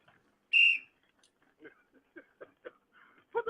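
A single short, shrill whistle blast sounds loudly, followed by people talking in quick, argumentative bursts.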